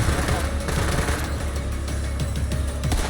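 Rapid SMG gunfire in the video game Borderlands 3, a dense continuous rattle of shots mixed with game effects, loud and steady for the whole stretch.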